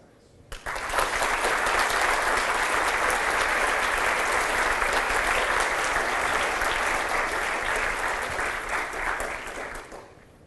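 An audience at a public lecture applauds to welcome Albie Sachs. The clapping breaks out suddenly, stays loud and steady for about nine seconds, then tapers off.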